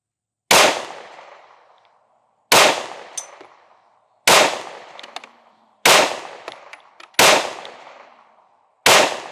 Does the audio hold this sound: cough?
no